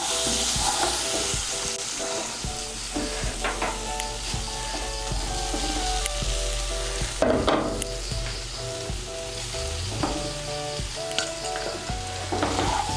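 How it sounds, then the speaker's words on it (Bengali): Fried egg, potato and soybean stirred into sizzling masala in a pan, a loud close frying hiss with repeated scraping and clattering stirring strokes throughout. "ডিম, আলু আর সয়াবিনগুলোকে ভালো করে মশলার সঙ্গে মিশিয়ে নেব।"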